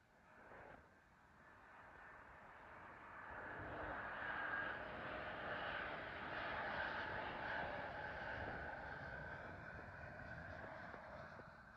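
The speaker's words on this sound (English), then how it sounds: "Arriving in now is an Embarra E190 with KLM from Amsterdam to London Heathrow." A KLM Embraer E190 airliner arrives at London Heathrow, its jet engine roar and whine building gradually from a distance and holding at moderate loudness.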